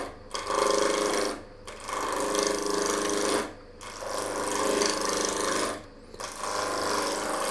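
Wood lathe spinning at roughly 2,000 rpm while a maple hollow form is turned, giving a steady broadband rasping hum broken by four brief dips where the tool lifts away, loud and close with no voices.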